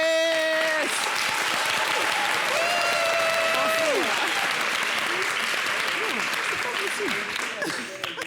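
Studio audience applause on a French-language TV talk show, a broad steady clapping wash with strong, sustained tonal voices or music riding over it, fading toward the end.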